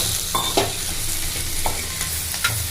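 Asafoetida, tamarind and small coconut pieces sautéing in a pan, a steady loud sizzle under repeated scraping strokes of a spatula stirring the mix, close and without speech.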